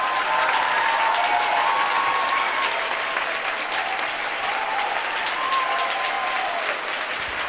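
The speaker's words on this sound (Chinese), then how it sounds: "给他最大的掌声" A concert audience on its feet giving sustained applause to a harmonica maestro, a dense steady roar of many hands clapping for several seconds, with no talk.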